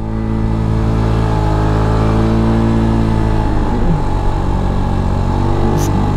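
A Kymco KRV motorcycle engine revs hard and steadily while climbing a steep uphill road with a passenger aboard, its loud, close drone holding a sustained pitch that wavers slightly midway.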